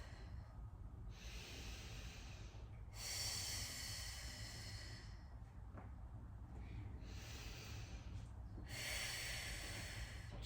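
Deep, rhythmic breathing during a deep core exercise, several long hissing breaths alternating inhale and exhale with brief pauses, close and steady, with no talk.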